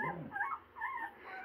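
Faint high whimpering of a Grand Gascon Saintongeois puppy while nursing, a few soft whining cries over quiet suckling.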